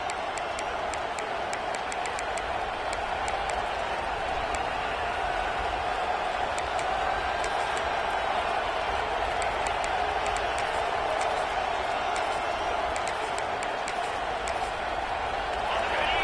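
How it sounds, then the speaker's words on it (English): Steady roar of a large stadium crowd at a football game, a continuous wall of cheering and chatter with no pauses, broad and distant-sounding. "Listen to the crowd energy here in the early going."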